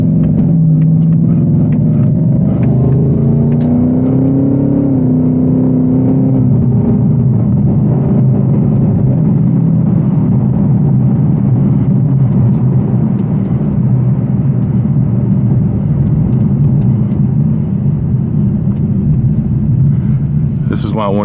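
Supercharged 810 HP Whipple Ford Mustang GT350 accelerating hard on a road, a loud, steady low engine rumble and roar heard from inside the car that holds throughout, with brief talk early on.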